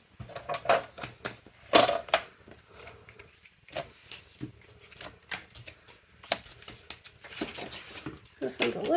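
Paper being trimmed into smaller pieces for scrapbook mini-album tags, with sharp crisp cutting snaps and paper rustles in irregular bursts, close by, alongside some handling noise and faint speech.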